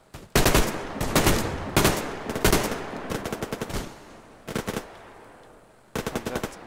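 Gunfire in the video game Survarium, with repeated short bursts of automatic fire separated by brief pauses, loud and close.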